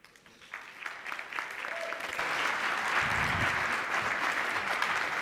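An event audience applauds a panel guest, with scattered claps building into steady, sustained applause from a crowd.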